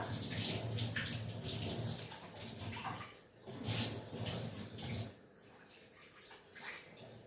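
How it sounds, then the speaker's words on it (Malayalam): Water runs steadily into a container with a broad splashing rush, easing briefly and then continuing at a lower level toward the end. "ഒരു പാത്രത്തിൽ ഇങ്ങനെ വെള്ളം"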